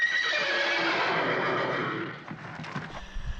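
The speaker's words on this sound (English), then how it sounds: "I don't know if you can hear that or not, that horse back there" A loud, long horse whinny rising and trailing off, followed by faint shuffling and thuds.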